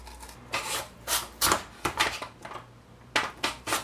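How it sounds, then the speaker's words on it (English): Washed potatoes are pushed across a mandoline blade to cut fries. Each stroke makes a short, crisp scraping slice, close up and moderately loud, repeating in an irregular rhythm with brief pauses between. "I'll be using a mandolin today"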